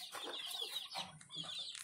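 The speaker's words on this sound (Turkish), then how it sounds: "Civcivlerimiz de acıkmışlar." Hungry chicks cheep at feeding time, a faint, continuous flurry of high thin peeps from several birds at once, close but quiet, with no talking.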